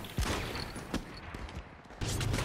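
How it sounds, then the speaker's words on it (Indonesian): Sharp gunshots crack out amid a busy World War II battle scene in Saving Private Ryan, a few scattered bursts over rumbling background noise, loud and cinematic. "Kapten Miller pun tertembak di jembatan"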